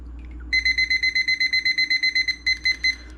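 A kitchen timer rings with a rapid train of bright, evenly spaced beeps, loud and close, running for nearly three seconds with a short break near the end over a quiet room.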